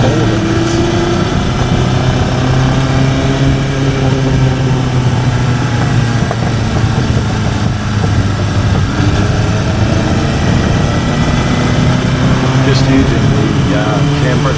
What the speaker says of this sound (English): I give it a few revs here.